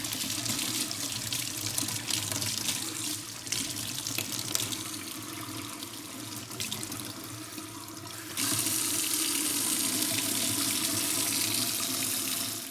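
Very hot water gushes from a tap in a long-abandoned Arctic house, a steady close rushing stream that grows louder and brighter partway through as the flow increases.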